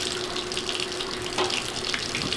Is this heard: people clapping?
no